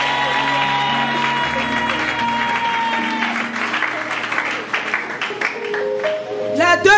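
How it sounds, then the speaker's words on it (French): Congregation at a Congolese church service applauds and acclaims together, a dense sustained wash of clapping and cheering with organ or keyboard tones underneath, swelling louder near the end. "Et acclame le Saint-Esprit."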